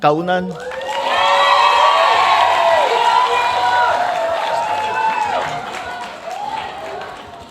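A crowd at a Philippine political event claps and cheers loudly, whoops rising over sustained applause that slowly fades, with voices mixed in.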